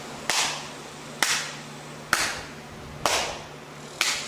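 Five sharp hand claps, evenly spaced about a second apart, each ringing briefly in a quiet room, made as a level test for a Sony ICD-PX370 voice recorder.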